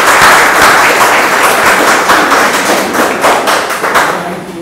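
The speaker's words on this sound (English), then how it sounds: "Can we give them another round of applause?" An audience claps loudly and steadily for the 2024 BVI national team bound for the CARIFTA Games in Grenada. Dense, close applause fills the whole stretch and eases slightly toward the end.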